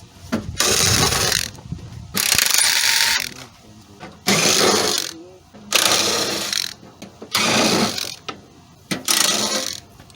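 A hand ratchet zips in repeated bursts while backing out 10mm bolts on a Toyota Sienna engine, loud and close, with about seven clicking runs separated by short pauses and a little speech between them.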